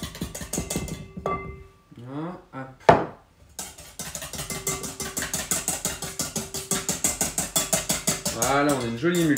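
A whisk beats egg yolk and rapeseed oil into mayonnaise in a bowl, ticking in fast, regular strokes that grow steady and rhythmic, with brief voice-like sounds in between.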